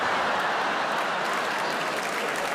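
Comedy show audience breaking into steady, dense applause, loud and continuous throughout with no let-up, a full crowd clapping together without any speech over it.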